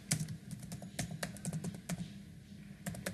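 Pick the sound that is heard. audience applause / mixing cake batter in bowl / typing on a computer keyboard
typing on a computer keyboard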